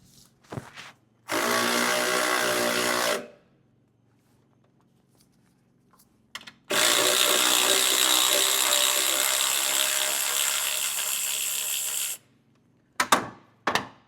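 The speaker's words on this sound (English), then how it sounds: "we need to loosen this pulley, then loosen the belt tensioner" A ratchet loosens the alternator pulley and belt tensioner on a Jeep Cherokee XJ, giving two sustained bursts of rapid clicking, the second longer, with quiet pauses and short tool knocks between them.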